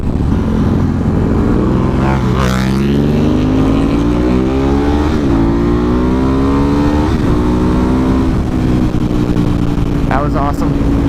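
An Aprilia motorcycle ridden hard on an open road, its engine droning loudly throughout with rising and falling revs through several gear changes, heavy wind rush underneath.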